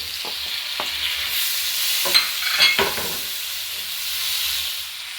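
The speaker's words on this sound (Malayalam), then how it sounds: "തക്കാളി അരിഞ്ഞു വെച്ചത് ഇടുന്നു." Chopped tomatoes dropped into hot oil for prawn roast, frying with a loud, close sizzle and a burst of stirring scrapes midway.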